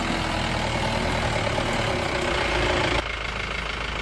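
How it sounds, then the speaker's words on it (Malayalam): A Mahindra Bolero diesel 4x4 idles in a forest, a loud, steady low rumble close by with no voices. The level eases slightly about three seconds in. "കാടിൻ്റെ നിശബ്ദതയും അതിനകത്ത് നമ്മുടെ വണ്ടീൻ്റെ ഇങ്ങനെ സൗണ്ട് മാത്രം, എൻജിൻ സൗണ്ട് മാത്രം"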